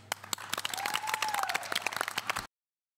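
Audience applause on the stage of the Marathi TV comedy show Chala Hawa Yeu Dya, steady dense clapping lasting a couple of seconds before cutting off abruptly, with a brief whistle-like tone rising through it.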